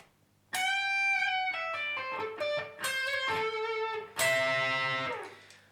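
A clean-toned electric guitar plays a short lick with bent and sliding notes, ending on a ringing double-stop that fades out.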